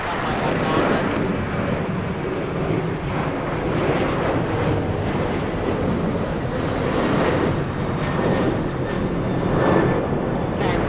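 Jet aircraft taking off at Los Angeles International Airport, a steady loud broadband engine roar with wind rumble that persists throughout, no speech.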